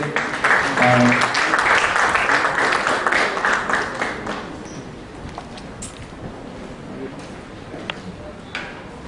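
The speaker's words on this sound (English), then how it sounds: "I would request for a round of applause for our speakers." Applause for industry speakers at a PSU summit on information technology, a dense crowd clapping loudly for about four seconds before thinning into scattered claps and faint room noise.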